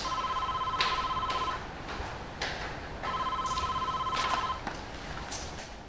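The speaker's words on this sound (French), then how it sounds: "Mais j'entends le téléphone sonner." A telephone bell rings in two repeated bursts at moderate distance, each ring a steady electronic trill lasting over a second, with room noise between them and no speech.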